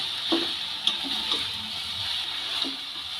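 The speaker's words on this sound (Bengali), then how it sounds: "খুব ভালো করে চিনিটা চালতার সঙ্গে মিশিয়ে নেব" Sugar is stirred into a pan of chalta (elephant apple) pickle as it begins to melt, a steady soft hiss with a few brief scrapes and clinks of the spoon, and no voices.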